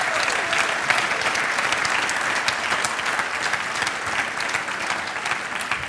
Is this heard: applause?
yes